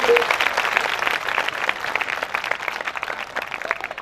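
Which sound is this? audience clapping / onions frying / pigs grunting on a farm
audience clapping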